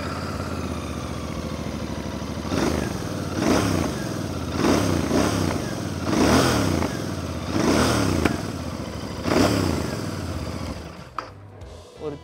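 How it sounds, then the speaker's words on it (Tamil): Royal Enfield Bear 650 motorcycle exhaust revved repeatedly in about six rising bursts over a steady idle, close and loud, with a faint pop after the throttle drops near the end. "ஸோ எக்ஸாஸ்ட் இப்போ ஆன் பண்ணி காட்டுறேன்"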